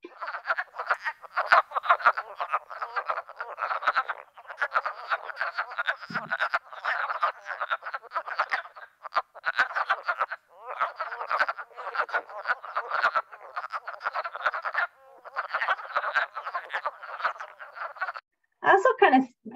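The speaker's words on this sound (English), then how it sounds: "their frog sound actually sounds like a quacking duck" Wood frogs calling from a woodland vernal pool in February make a dense, continuous chorus of clucking, duck-like quacks that overlap steadily throughout, loud and close, with no voices over them.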